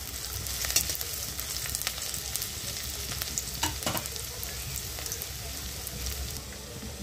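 Chopped onion and green chilli frying in a pan for aloo paratha filling, a steady close sizzle with occasional scraping stirs throughout.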